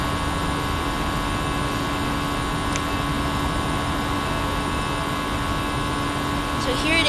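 Airbus A320 jet engines in a flight simulator game just after takeoff, a steady, loud broadband roar with a constant tonal hum, unbroken for the whole stretch.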